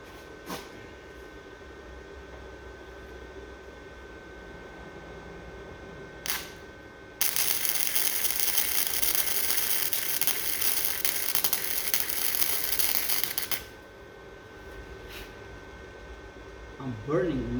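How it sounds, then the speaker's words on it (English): A first-time welder burns metal with a steady, loud crackling sizzle that runs for about six seconds, with quieter shop hum and brief sputters before and after. "I'm burning the metal. Well, that's welding"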